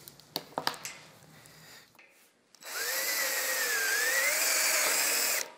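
A power drill bores into aluminium while building a motor aircraft, first a few sharp taps and clicks, then a steady, loud whine with a rising and falling pitch that runs about three seconds before cutting off.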